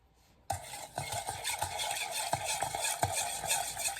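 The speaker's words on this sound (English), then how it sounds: "And you're going to want to mix it." Sugar being stirred into a cinnamon roll mixture, with quick clinking and scraping of a utensil against a bowl in an irregular rhythm, close and moderately loud, no speech.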